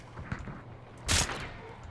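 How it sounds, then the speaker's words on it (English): A silenced Nagant pistol fires a single muffled, brief shot in Hunt: Showdown, a soft burst standing out over quiet background ambience. "This is a silenced Nagant pistol."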